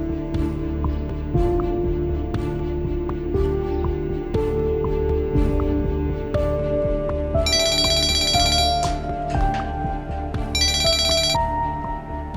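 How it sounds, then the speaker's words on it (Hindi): A phone ringtone plays repeatedly, a melodic electronic tune over a steady tonal background, with bright bursts of ringing partway through. "मैं ज़ैनब साहिबा को फोन करूँ।"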